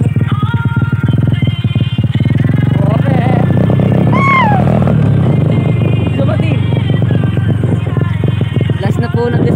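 A motorcycle engine runs close by with a steady, loud rumble throughout, while people talk and chatter over it.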